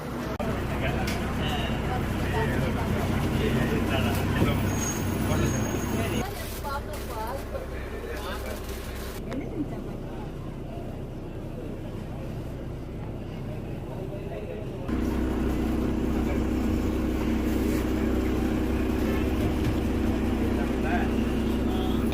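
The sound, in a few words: interior of a non-AC seater bus travelling from Sengottai to Avadi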